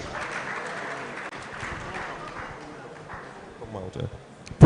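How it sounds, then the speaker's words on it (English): An audience at the Nigeria Employers Summit claps in a sustained patter of applause while voices carry over it. A few louder thumps come near the end. "let's give UAC a round of applause, please."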